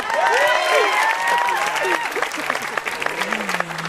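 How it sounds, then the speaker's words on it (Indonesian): A stand-up comedy audience breaks into loud applause mixed with whoops and cheering voices that rise and fall over the clapping, which becomes more scattered toward the end. "tepuk tangan sekali lagi buat Semi Not a Slim Boy"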